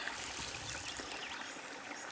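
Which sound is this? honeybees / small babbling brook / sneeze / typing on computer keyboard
small babbling brook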